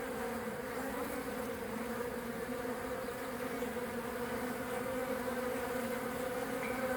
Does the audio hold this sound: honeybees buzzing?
yes